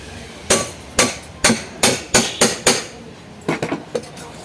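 Metal hammer tapping a ceiling fan bearing into place, about a dozen sharp, close, ringing strikes, a steady run of evenly spaced blows followed by a quicker, lighter cluster.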